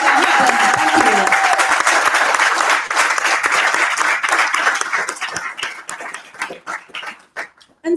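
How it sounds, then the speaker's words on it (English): A town hall audience applauds with dense, loud clapping and a few whoops, sustained for several seconds before thinning into scattered claps and fading out near the end. "I just want to have a big round of applause, a big moment for all those amazing people"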